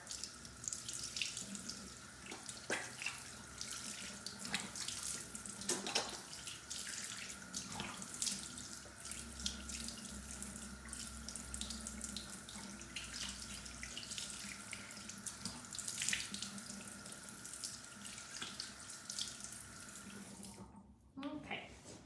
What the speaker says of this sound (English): And then you just rinse it off with warm water.